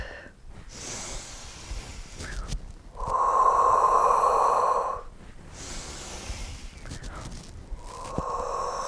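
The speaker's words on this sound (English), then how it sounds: "exhale out, deep breath in, and exhale out, inhale," Deep exercise breathing during a standing Pilates workout, slow audible inhales and long hissing exhales alternating at close range, with no talk over them.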